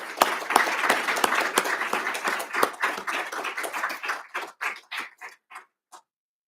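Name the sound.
audience applauding an award recipient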